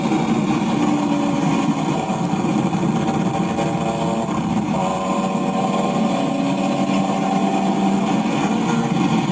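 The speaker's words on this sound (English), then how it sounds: "You can hear his exhaust." BMW fitted with M3 CSL parts driving on crowded city streets, its exhaust a steady, droning engine note with a faint higher whine, continuous and moderately loud across the whole stretch.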